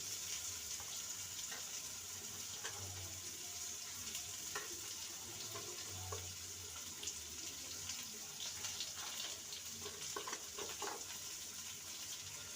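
Potato pieces with salt and turmeric fry in a pan, giving a continuous, soft, hissing sizzle with faint scattered crackles and no voices.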